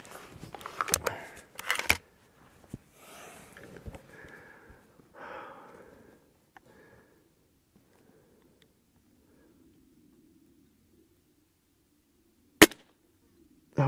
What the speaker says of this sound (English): Not quite enough. We're going to take another shot.